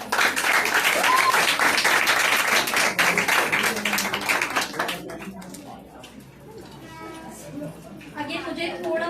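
Audience at an Independence Day celebration claps loudly and steadily for a performer, the applause fading after several seconds into quieter scattered claps and background murmur.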